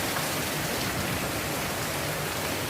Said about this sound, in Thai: ฝนสาดเข้ามาทางนี้นะครับ